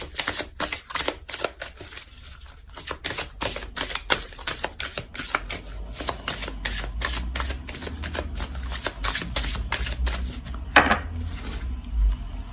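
Oracle cards are shuffled by hand in a rapid run of dry, crisp flicking and slapping clicks that is dense at first, then thins into scattered softer taps and handling sounds.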